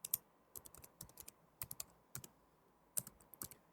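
A computer keyboard is typed on in short, close bursts of crisp key clicks with brief pauses between groups, and no voice is heard.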